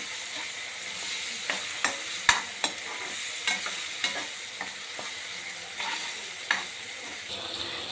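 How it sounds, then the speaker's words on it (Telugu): A spoon stirs onion, ginger and garlic paste through a frying fish curry in a pan, with a soft steady sizzle broken by scattered clacks and scrapes, fairly quiet and without talk. "ఆ పేస్ట్ ఇందులో యాడ్ చేస్తాను బాగా కలుపుకుంటున్నాను"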